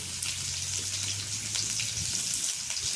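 Garlic frying in hot oil in a home kitchen: a steady close hiss and sizzle with fine crackling throughout, at moderate level with no talk.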